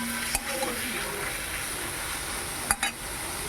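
Yam and jackfruit seeds with salt and turmeric are stir-fried in a pan, giving a soft continuous sizzle with a couple of brief clatters from the spatula.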